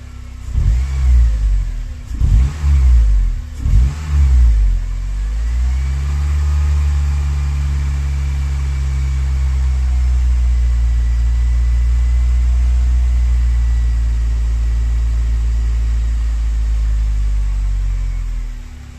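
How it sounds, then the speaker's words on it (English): A Honda EP3 Type R engine revs a few times, then settles into a steady, loud hum with a cooling fan whirring alongside it. "Oh, there goes the fan again."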